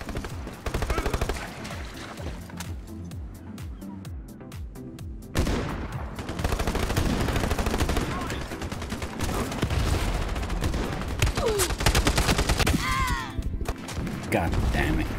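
Gunfire in the shooter Ironsight during a team deathmatch on the Cruise map, with dense overlapping bursts and rapid automatic fire mixed with explosive crashes, a voice briefly heard under the din.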